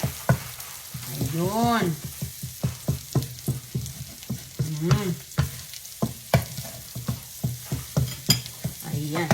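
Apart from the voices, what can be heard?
eggs frying and being stirred into scrambled eggs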